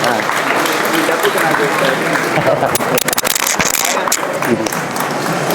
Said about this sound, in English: Make a big round of applause for those young dancers.